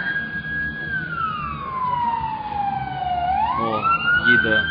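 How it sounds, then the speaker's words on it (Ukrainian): Ambulance siren sweeping through a long wailing pitch glide as the vehicle passes by on a street, moderately loud over traffic noise and faint background voices. "Їде швидка допомога"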